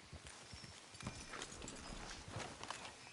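Horse hooves clip-clop in Red Dead Redemption 2 on PS5, a steady walking rhythm of quiet, close thuds with no talk over them.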